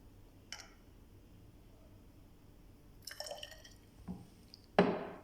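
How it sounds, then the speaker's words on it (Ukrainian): A few small drips and splashes of distilled water into a glass test tube holding magnesium powder, faint and sparse, ending with a brief louder pour. "Доливаємо до нього дистильованої води."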